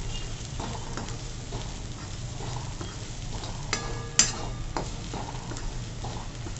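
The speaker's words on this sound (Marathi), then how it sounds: "हा कांदा लसूण मसाला, थोडीशी हळद, छान परतवून घ्यायचं" Onion-garlic masala with turmeric sizzles quietly in a pan for a chana masala, with soft stirring scrapes and one sharper clink of a utensil against the pan partway through.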